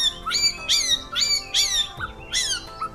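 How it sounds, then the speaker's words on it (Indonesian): A caged oriental magpie-robin (kacer) calls loudly and close by in a series of about five sharp, rising chirp bursts with brief pauses between them and no voices. "Nah itu kacer yang kemarin udah mulai mau nyaut-nyaut teman-teman"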